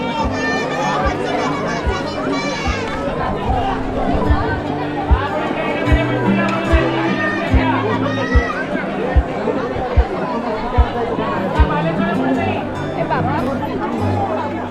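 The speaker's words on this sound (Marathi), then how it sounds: "गर्दी तर खूप आहे मित्रांनो." Dense crowd chatter fills the Jejuri temple fort, a steady hubbub of many voices including children, with periodic thumps and a vlogger's voice close over the babble.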